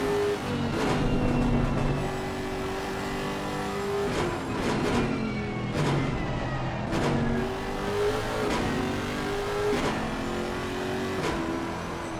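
Lexus 5.4-litre naturally aspirated V8 GT3 race car engine revs hard and loud, rising and falling repeatedly through upshifts as the car races past, no talking.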